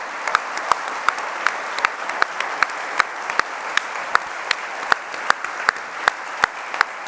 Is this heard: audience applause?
yes